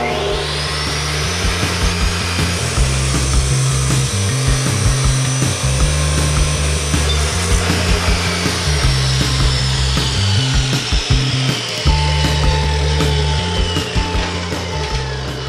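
A power tool grinds through metal tongue jack brackets for a trailer build, a steady loud whining cut running throughout with a rhythmic pulsing drone underneath and no talking.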